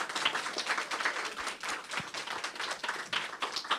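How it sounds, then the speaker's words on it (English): A small audience at a literary society panel event gives a light round of applause for the panelists, with sparse, close hand claps tapping at an uneven rhythm for a few seconds. "Can everyone give our panelists a round of applause?"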